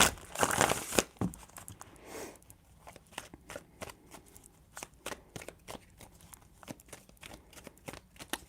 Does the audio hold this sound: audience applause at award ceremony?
no